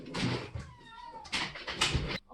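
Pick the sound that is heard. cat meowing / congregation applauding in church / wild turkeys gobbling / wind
cat meowing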